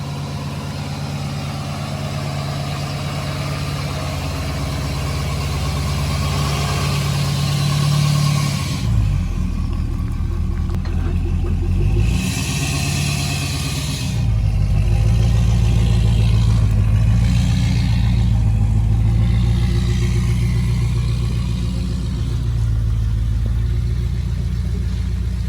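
A Ford F-250 diesel pickup drives along the road, its engine a loud, continuous low rumble with a few shifts and surges in tone, without talk.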